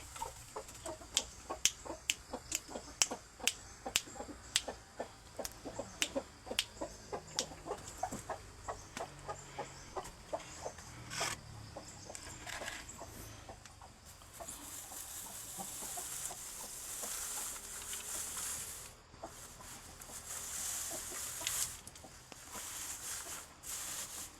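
Thai fighting chickens cluck and call close by in a steady run of sharp, rapid notes, later giving way to louder rustling and scratching noise with occasional calls, with no talking.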